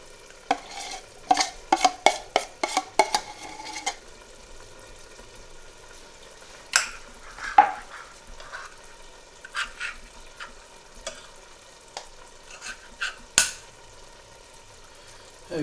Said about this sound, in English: I'll take desi ghee and add it to the pan which is on heat.